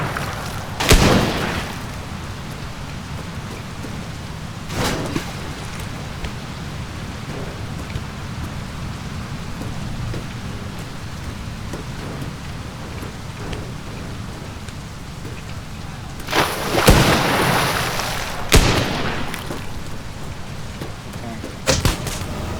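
Bomb blasts in the destruction game Teardown, aboard a ship at an oil rig: a couple of sharp bursts amid a steady rain-like roar of crumbling debris, with heavier, louder blasts clustered near the end.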